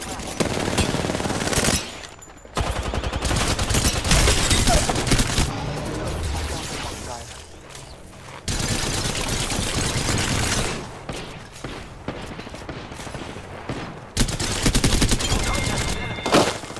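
Sustained automatic gunfire in an Apex Legends match, loud bursts of machine-gun fire that drop out briefly and then resume, with heavy overlapping shots.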